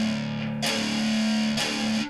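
A distorted electric guitar plays a palm-muted chug, a sustained low growling note with two brighter strummed accents, loud and close with no talking.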